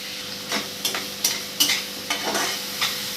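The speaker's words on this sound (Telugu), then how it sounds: "వేగుతుందండి కొద్దిగా బాగా." Fish pieces, washed and salted, frying in a pan for a traditional fish curry, giving a faint steady sizzle broken by several sharp stirring scrapes and clinks of a utensil, close up with no talking.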